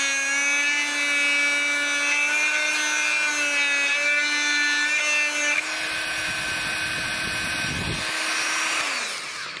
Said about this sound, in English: I'll take some of my carbon drill bits and drill it out by eyeball